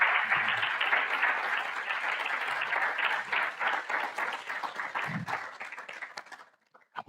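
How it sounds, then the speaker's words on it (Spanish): Dense, steady audience applause for the panelists at the close of a forum on consumer debt during inflation, a wash of many hands clapping that thins and fades out near the end. "un aplauso para nuestros participantes"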